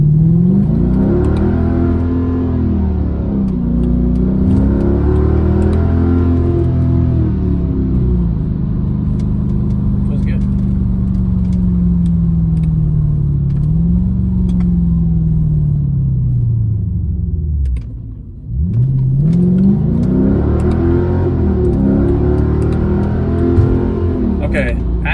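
A Mercedes C55 AMG sedan with a deep engine rumble rising and falling through acceleration pulls on the road, loud and steady inside the cabin, with talking over it.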